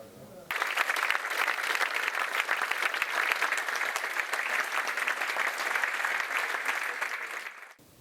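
Warm, steady applause from a delegates' assembly of the Swiss BDP party in Bern honoring Hans-Jörg Hassler, a dense crowd clapping continuously for about seven seconds before fading out.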